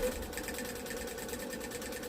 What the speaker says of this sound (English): take it to our machine, and we're going to sew right across that line.